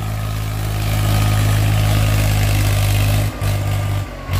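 A Swaraj 735 FE tractor engine runs loud and steady with a deep, throbbing low-end rumble, dipping briefly near the end before carrying on. The silencer is in poor shape.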